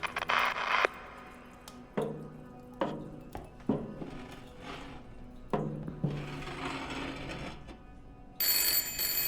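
A telephone rings in Layers of Fear amid creaks, knocks and shuffling wooden sounds, with a bright ring bursting in near the end, moderately close with no talking.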